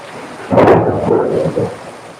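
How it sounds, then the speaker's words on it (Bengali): Heavy rain pours steadily while a loud rumble of thunder rolls through, swelling and then fading away. "মুসল ধারায় বৃষ্টি হচ্ছে"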